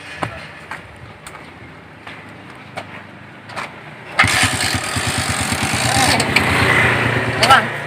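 A motorcycle engine catches and starts partway through, after a stretch of quieter background, then runs loudly with a steady rough idle close by.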